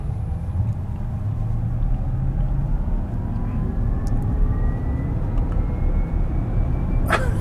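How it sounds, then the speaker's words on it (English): A loud, steady low rumble of road and wind noise inside a moving Tesla Cybertruck, with a faint whine rising and falling underneath. "It feels like you're taking off from an airplane. It has that same kind of wind."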